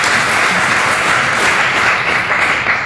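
An audience at a panel debate on Syria claps loudly and steadily, a close, continuous wash of many hands with no voices over it.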